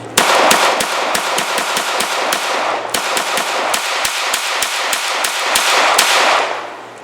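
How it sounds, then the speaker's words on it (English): Rapid bursts of sharp, loud shots from a B+T TP9 pistol fitted with a folding brace, cracking close by in quick succession with a brief break partway through. "here's some footage of my old gun, now his gun, being fired with the folding brace"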